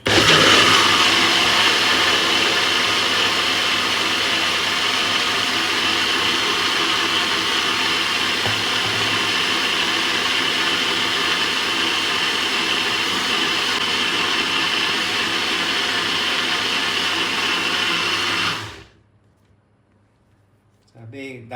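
A blender whirs loudly and steadily as it purées an avocado gelato mixture, then cuts off abruptly near the end, leaving near silence.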